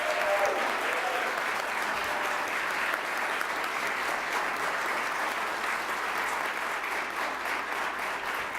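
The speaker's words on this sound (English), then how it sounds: "let's give these young people a round of applause" A crowd at a public health month kick-off applauds young people, a steady, even wash of clapping that holds at moderate loudness throughout.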